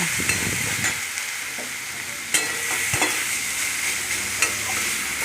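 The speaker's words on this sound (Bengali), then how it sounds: "ডিমাটাকে ভালো করে মশলার সঙ্গে কষিয়ে নিচ্ছি" Chicken mince being stir-fried with turmeric, coriander and chilli powder in a pan, a constant close sizzle broken by a few sharp spoon knocks against the pan, no voices.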